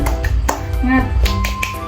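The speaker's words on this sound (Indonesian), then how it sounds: "kita lakukan tepuk dulu yuk" Children join a tepuk semangat rhythmic clapping chant, with sharp, evenly spaced claps close by while voices speak and chant along.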